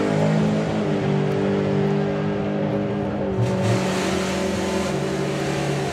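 Super Gas drag racing car on very skinny tyres making a nine-second run down the strip at a drag racing event, a sustained loud engine roar with steady droning tones, heard from a distance over open-air ambience.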